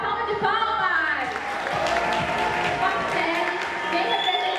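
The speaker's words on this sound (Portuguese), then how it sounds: "Chamo agora a aluna Marcele Maciel, uma salva de palmas!" Loud, sustained audience applause and cheering for a student at a school arts event commemorating the centenary of Brazil's 1922 Modern Art Week, a dense wash of clapping with crowd voices mixed in.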